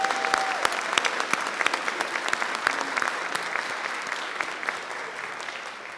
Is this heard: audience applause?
yes